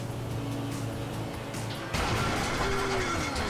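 A loud boat engine in Grand Theft Auto V sputters and clanks with a sudden harsh crash as it breaks down, then a continuous rough, grinding mechanical roar.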